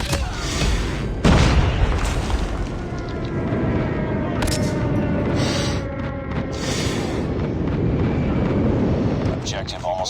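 Heavy airstrike explosions boom through a team deathmatch round of a first-person shooter, one strong blast early and then a dense, sustained rumble of detonations, with voices talking over the din.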